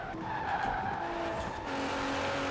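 Tires skid and squeal steadily as a car brakes hard into a corner in Forza Horizon 4, a sustained screech over the engine with no pauses.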